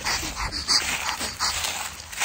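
A puppy whimpers and yips in short, faint, high bursts over a low background rumble, with no talking.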